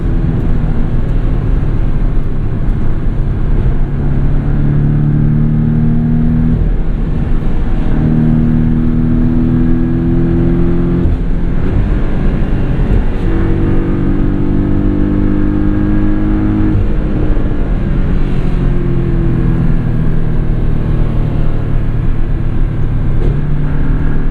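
A tuned 2017 Porsche 718 Boxster S with PDK gearbox and MTM engine upgrade, driven hard on German back roads, with its engine droning and surging loudly and steadily through repeated rising pulls, with no talk.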